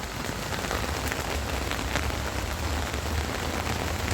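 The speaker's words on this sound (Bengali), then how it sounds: "বৃষ্টির মধ্যে মাথায় ছাতা নিয়ে হাঁটাহাঁটি করছি ছাদের উপর" Rain pours onto a house rooftop among potted plants in a dense, constant patter of drops that stays loud and even throughout, with no voices.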